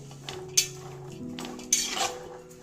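Red bell pepper and mixed vegetables stirred in a pan, giving two bright metallic clinks of a utensil against the pan over a low, steady background hum.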